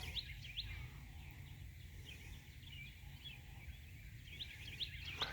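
A bird calls outdoors on a cloudy day, with faint, high, short chirps coming in small clusters at the start and end over a low background rumble.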